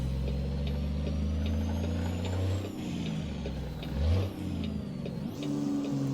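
Heavy truck in American Truck Simulator pulling away in second gear, its engine droning low and steady with the revs rising and dipping as it labours, plus a brief hiss and clank along the way.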